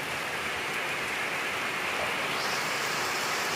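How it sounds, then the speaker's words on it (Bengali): Heavy rain pours down in a dusty, darkened storm, a loud, unbroken roaring hiss that fills the whole moment without any voices. "কি পরিমাণ বৃষ্টি নামছে"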